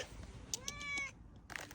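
A single drawn-out meow from a cat nearby, fairly soft, with faint background noise and no talking.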